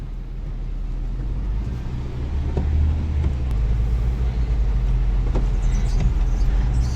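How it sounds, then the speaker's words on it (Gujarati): Car driving through steady rain, a continuous close low rumble of the engine and road under a broad wash of rain noise with a few faint ticks, steady throughout. "ગાડીમાં જઈએ છીએ અત્યારે"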